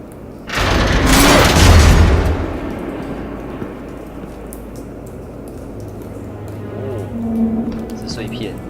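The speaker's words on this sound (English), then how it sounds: "A normal bullet couldn't have caused that explosion." An explosion in a Batman video game bursts out as a loud, close boom lasting over a second, then trails off into a rumbling, debris-filled tail with scattered crackles.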